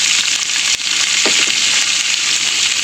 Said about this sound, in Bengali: একটু জাস্ট তেলে নাড়াচাড়া করে নিলাম